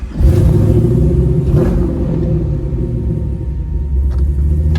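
A 1962 Chevrolet Corvette with automatic transmission pulls away, its engine a loud, close, deep rumble that swells as it revs and settles into a steady drone.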